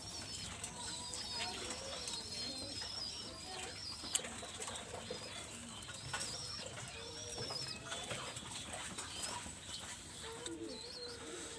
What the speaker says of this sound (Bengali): সর্বপ্রথম একটা গোল্ডেন কবুতর আমি দেখাচ্ছি